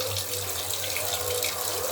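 Water runs steadily from a kitchen tap into a sink while freshly cut fish is rinsed, a close, continuous splashing rush.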